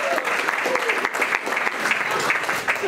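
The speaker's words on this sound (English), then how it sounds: "Give yourselves a round of applause for that." An audience at a presentation-skills seminar applauds: steady, dense clapping from a large crowd, loud and continuous for the whole stretch.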